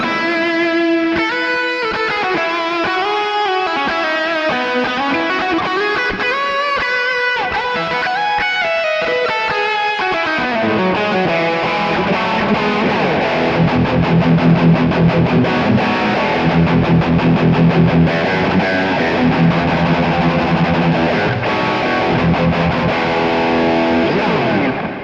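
Distorted electric guitar played through a Marshall amp with echoing delay and washy reverb, melodic lines at first, then sustained chords ringing out under repeating echoes.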